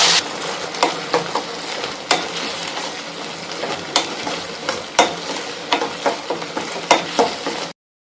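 A ground tomato and onion paste sizzles as it sautés in a pan, with a steady frying hiss broken by repeated scrapes and clinks of a spoon stirring, close and clear.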